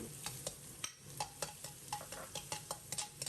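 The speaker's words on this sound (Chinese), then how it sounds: "起锅，锅烧热，放少许油，油热以后放入准备好的小料，煸炒出香味" Chopped aromatics stir-fry in a little hot oil in a heated wok, a quiet, steady sizzle broken by regular scraping and clinking strokes of the spatula.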